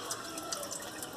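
A water tap hisses and rushes steadily as the faucet is turned toward closed, with water splashing into a sink, close and continuous with a faint whine.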